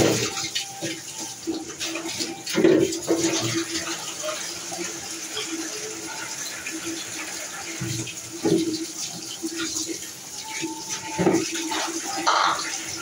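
Potatoes are washed under running water, with a steady gush from the tap. Irregular splashes and knocks rise out of the flow as they are rubbed and handled, close by.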